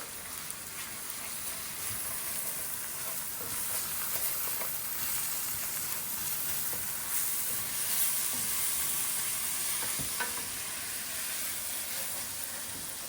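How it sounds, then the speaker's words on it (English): Rice sizzling steadily in a paella pan, a continuous even hiss of frying with no talk over it. "Okay, so I'm ready to add the rice now. I made a little well in the middle there. So it's gonna brown up a little bit."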